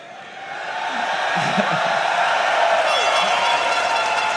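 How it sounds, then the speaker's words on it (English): A loud arena crowd cheers at an esports event, the League of Legends EU Championship Series, a dense sustained roar swelling over the first second and holding steady, with whoops and clapping mixed in. "And what a crowd it has been so far. Nice and loud."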